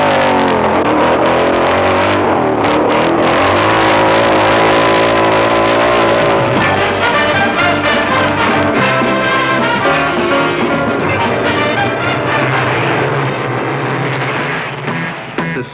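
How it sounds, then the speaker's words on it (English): Flat track motorcycle racing engines roar loudly and continuously, rising and falling as bikes accelerate past, with a dense, steady wall of engine noise throughout. "You don't know what flat track motorcycle racing is?"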